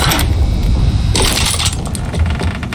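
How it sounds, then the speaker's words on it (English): Magazine swap and ammunition clattering down in a first-person shooter video game, a loud, continuous burst of metallic rattles and clinks set against busy game background noise. "Changing mags. Dropping ammo."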